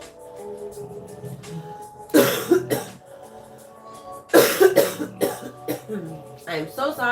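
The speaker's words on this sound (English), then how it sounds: "I am so sorry for the coughing." Several bursts of harsh, loud coughing with throat clearing, in two main fits and a smaller one at the end, between stretches of quiet talk by a woman doing nail art.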